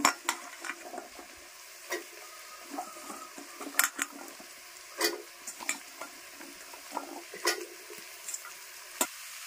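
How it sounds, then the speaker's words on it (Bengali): Onions and taro stolons frying in oil left from frying fish, heard as a light sizzle beneath repeated spoon scrapes and clinks against the pan, fairly close and moderately quiet. "পেঁয়াজের সঙ্গে আমি এই কচুরলতিগুলো ভেজে নেব।"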